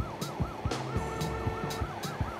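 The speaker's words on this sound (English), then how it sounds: "Wait, you have the siren." In The Stretchers video game, an emergency vehicle siren wails in a steady rising and falling cycle over engine hum, with periodic clunks and thuds mixed in, moderately loud throughout.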